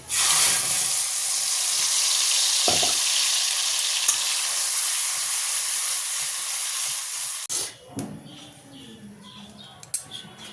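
Loud, continuous sizzling as nigella seeds temper in hot oil in a pan, followed by tomato and green chili paste for a fish curry, with a few spoon or pan clinks. The hiss cuts off abruptly and leaves quieter bubbling and scraping.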